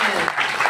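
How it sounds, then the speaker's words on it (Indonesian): Church congregation clapping during a sermon, a short dense burst of applause filling the moment. "Yang setuju berikan tepuk tangan."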